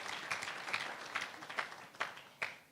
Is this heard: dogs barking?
no